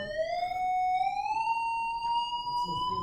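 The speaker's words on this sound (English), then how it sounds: "Perfect tone. 1000 hertz." A steady, piercing 1000 hertz electronic tone slides slightly upward then holds at one pitch, continuous and loud, with faint background noise, in a classroom.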